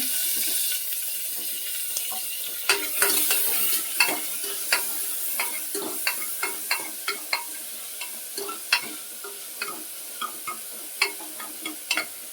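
Green chillies and tomato frying in a pan for a Kannada-style bili saaru, steady sizzle with frequent sharp clicks of a spoon stirring against the pan throughout.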